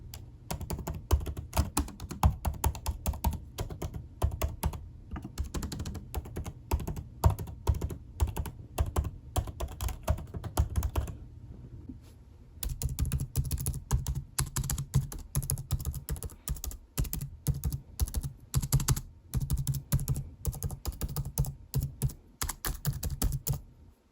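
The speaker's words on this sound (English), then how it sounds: "here's a close-up of the clicking sounds" Rapid keystrokes clatter on the keyboard of a 16-inch M1 Max MacBook Pro 2021, a dense, steady stream of crisp clicks recorded close up, with one short lull before the typing resumes.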